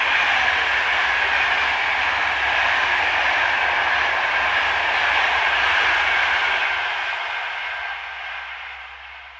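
Locomotive 7295 in original livery hauls a Paris to Orléans train past at close range, a loud steady roar of wheels and rail that gradually fades as it draws away toward the end.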